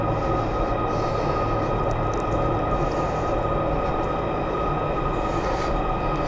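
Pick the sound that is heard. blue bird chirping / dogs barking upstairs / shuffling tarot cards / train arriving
train arriving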